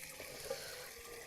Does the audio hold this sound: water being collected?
yes